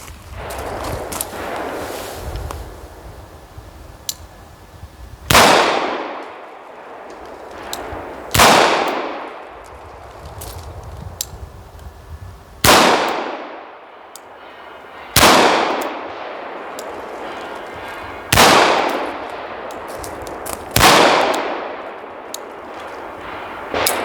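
A Colt Python revolver fires .357 rounds double action, one-handed and partially supported, at about 18 to 19 yards on a range. Six loud, sharp shots ring out a few seconds apart, each with a ringing decay.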